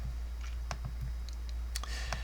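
Computer mouse clicks while drawing dovetail sockets in SketchUp: a handful of sharp, quiet, close clicks spaced irregularly over faint room hum, with no talk.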